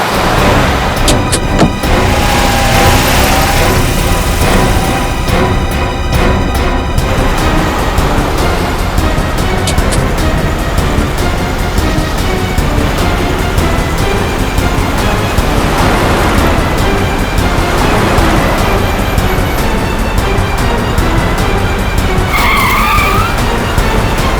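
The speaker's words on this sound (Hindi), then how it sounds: "इस तरह से गाड़ी चला रहा है, कहीं किसी को नुकसान ना पहुंचा दे।" A car driven recklessly with tires skidding and squealing during a chase, loud and continuous engine and tire noise throughout with a dense dramatic music bed underneath and no talking.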